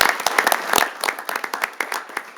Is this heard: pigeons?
no